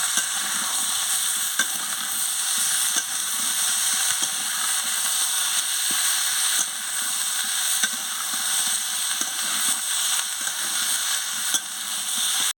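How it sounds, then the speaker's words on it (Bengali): Potato, pointed gourd and paneer sizzle steadily in a pan, a continuous bright frying hiss broken by frequent light clicks and scrapes of a spatula as the mixture is stirred, with no voices. "দিয়ে ভালো করে কষিয়ে নিচ্ছি।"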